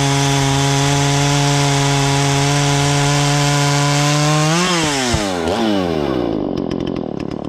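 A Husqvarna 235 chainsaw fitted with a modified muffler and advanced timing cuts logs outdoors: a loud, steady high-revving snarl that bogs and drops in pitch as the chain bites, then winds down near the end.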